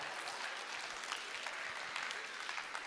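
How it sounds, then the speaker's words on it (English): A chapel audience applauds in a steady, dense wash of clapping that holds at an even level throughout, with no voices standing out. "Thank you for the applause up there."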